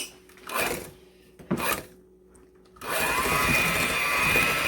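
An electric mixer whirs steadily, creaming sugar and margarine for a pound cake, starting loud after two brief bumps and a quiet stretch.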